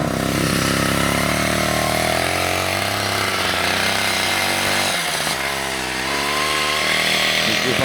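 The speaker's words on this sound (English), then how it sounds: "That's Ural! Just look how he burnouts!" A Ural gasoline ATV engine roars hard and continuously up close while spinning its wheels through snow in a burnout, pitch rising and dipping with the revs; voices may be buried under the noise.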